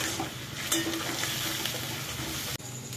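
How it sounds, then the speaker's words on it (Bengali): Grated onion fries in oil in a pan over low heat, giving a steady, dense sizzle with a brief stirring scrape partway through. "এই যে গ্রেট করা পেঁয়াজটা আমি দিয়ে দিলাম। এবার আঁচ আমি বেশি জোরে দেবো না, হালকা করে দিলাম। দিয়ে এটাকে ভালো করে ভাজতে হবে।"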